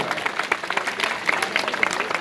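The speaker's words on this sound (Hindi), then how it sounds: "सभी लोग ताली बजाओ।" Crowd applause at a welcome ceremony where guests are garlanded: steady, dense clapping from many hands runs through the whole stretch, fairly close, with a few voices mixed in.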